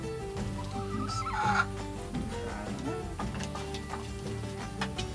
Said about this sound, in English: you can see a couple of chickens already here laying eggs